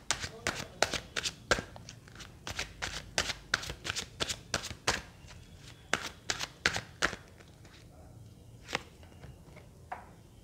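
Tarot cards shuffled and dealt out on a table: rapid riffling snaps and crisp slaps in quick bursts, then sparser card placements, close and clear, with a voice talking softly over them.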